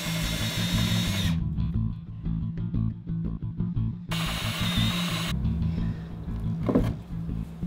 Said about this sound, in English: So just marking the position out and drilling 2-inch holes.